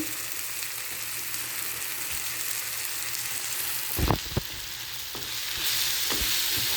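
Chopped carrot hits a hot pan and fries with a steady sizzle, broken by a few sharp scraping knocks of stirring, the frying growing slightly louder toward the end.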